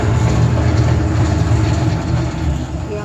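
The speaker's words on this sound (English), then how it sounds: "you see the auger and the paddle going the opposite direction now" An RBE mixer grinder runs with its auger and paddle turning in opposite directions, making a loud, steady, low mechanical rumble with a rattling, clattering texture close by and no talk over it.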